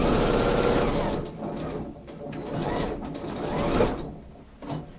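Sewing machine running a single line of stitching along a tote bag lining seam, a steady near whirring hum with slight speed swells and a brief pause near the end.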